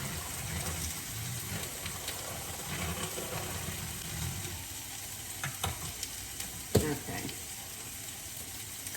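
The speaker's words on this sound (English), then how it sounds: "So we're still sauteing the vegetables, and they're getting there." Vegetables for a high-protein cottage cheese omelet sauté in a pan, a steady sizzle with stirring scrapes and a few sharper knocks near the end; a voice speaks briefly.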